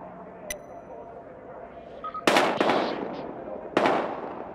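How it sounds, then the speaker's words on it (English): Gunfire in the video game Battlefield Hardline cracks out in a few sharp bursts: one pair of shots close together and another a second later, loud against a quiet, low background. "We've got gunshots."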